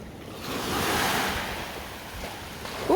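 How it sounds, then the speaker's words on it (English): Ocean waves breaking along a shore on a nature walk: a steady broad wash of surf that swells and recedes, mixed with light wind buffeting, and a brief voice rising right at the end. "Ooh, look at these waves."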